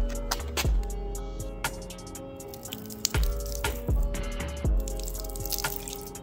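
Water poured over car paint splashes and drips in uneven bursts, with wet squishing and pattering sounds close by, no voices.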